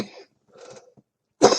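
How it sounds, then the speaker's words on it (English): A single wet, loose cough bursts out near the end, loud and close, after a few quieter throaty sounds and a pause. "not a dry cough"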